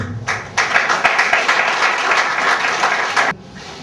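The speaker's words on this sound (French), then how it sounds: "on applaudisse les parents" Audience applause for parents and the public at a press conference of a Togolese youth football academy, a dense burst of clapping lasting about three seconds before stopping abruptly.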